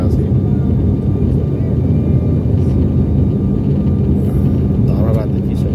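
Steady, loud low rumble of a Buddha Air airplane cabin in flight on a monsoon-season Pokhara to Kathmandu route, a constant engine drone with a faint voice briefly heard near the end.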